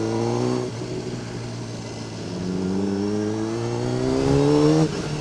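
A 2007 Honda CBR600RR motorcycle engine with its exhaust note, one rising rev, then a short drop and a second longer rev climbing steadily, loud and close, with no talking.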